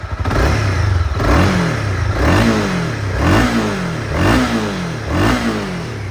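A 2018 Honda CB300R motorcycle engine is blipped repeatedly, each throttle rev climbing sharply and falling back in a regular rhythm of about five loud, close bursts over a rumbling idle.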